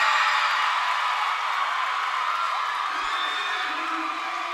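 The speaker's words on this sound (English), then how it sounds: "Crowd loves it" At a cheerleading championship, a large arena crowd cheers and whoops after a dance routine, a sustained, loud roar of voices that slowly tapers.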